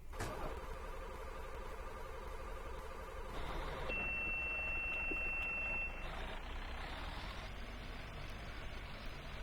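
A first-generation Blue Bird Vision school bus engine in a video game cranks and starts, then settles into a steady low rumble with a faint high electronic tone over the idle.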